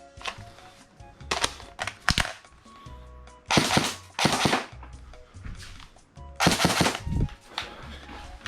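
An airsoft KRISS Vector, a Fennec .45 replica, fires in sharp, rapid clattering bursts during a shooting test, several short strings of shots separated by pauses, close by and without talk.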